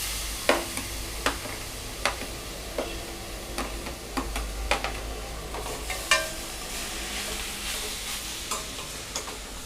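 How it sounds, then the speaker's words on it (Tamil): Grated beetroot and onions sauté in a pan for beetroot rice, with sharp, regular ticks of a spoon against the pan over a low, continuous frying hiss, fairly quiet and without talk. "இப்போ நம்ம பீட்ரூட் வந்து போட்டு நல்லா வதக்கிக்கலாம்"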